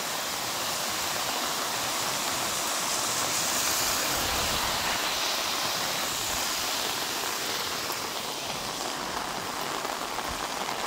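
A loud, steady roar of the flooded Zena torrent at Pianoro rushing past fills the whole stretch, a dense constant wash with the hiss of rain mixed in, no voices.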